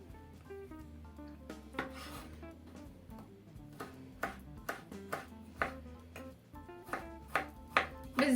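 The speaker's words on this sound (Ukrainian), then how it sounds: "Нарізаю наші фрукти." A knife chops through fruit on a board in steady, distinct strokes, each cut a crisp close knock, with quiet background music underneath.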